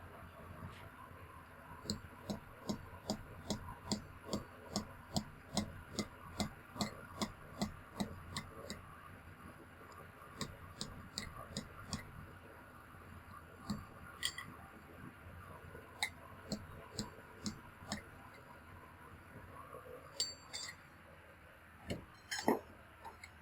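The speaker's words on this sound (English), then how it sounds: "So I threw in a couple of pieces of steel here, and I'll just make some taps" A hammer makes light, rapid taps on small pieces of steel at a forge, a long even string of faint metallic clicks with brief pauses, heard alone at a fair distance.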